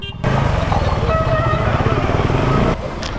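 A motorcycle rolls in to park near a temple entrance in Rameshwaram. Its engine gives a steady, close, loud rumble that cuts off sharply near the end.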